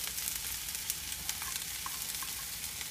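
Sliced red peppers and mushrooms sizzle steadily in a hot frying pan while fajitas are cooked, a continuous close crackling hiss with small pops and no voices.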